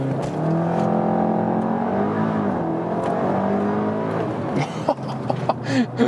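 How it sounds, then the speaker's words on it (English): A Cupra Ateca 300 hp sport SUV launches under launch control, its engine note climbing loudly and steadily for several seconds before easing into road and cabin noise. "it also enables you to use the launch control"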